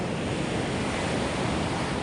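Sea waves and strong wind roar during a typhoon as floodwater rises at a seaside resort, a dense, constant rushing wash with heavy wind buffeting on the microphone.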